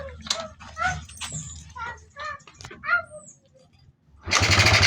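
A Fury 125 motorcycle that had stopped running turns over and its engine catches near the end, a loud steady idle starting abruptly after a few seconds of quiet talking.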